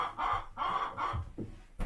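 Chickens in a homestead chicken coop, several close, loud clucking calls in a short uneven rhythm, heard alone with no talk.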